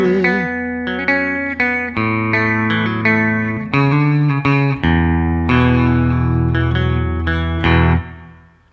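An electric guitar with effects and light distortion plays a song's line as a quick run of ringing, separate notes that ends on a sustained chord before fading.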